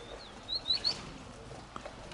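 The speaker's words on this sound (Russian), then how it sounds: "Голубята вижу у тебя еще, да?" Domestic pigeons at a loft give a few soft chirps and coos close by over quiet background, with the birds grouped briefly in the first second.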